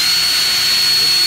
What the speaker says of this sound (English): Let's drill down to hit the concrete there.